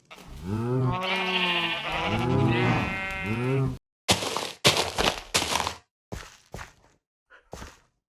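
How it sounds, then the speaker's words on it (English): Minecraft sheep bleat in a quavering run of several wavering calls, followed by a string of short, crisp in-game footsteps and block sounds with brief silences between them. "But I think I will go and breed up some more sheep nonetheless."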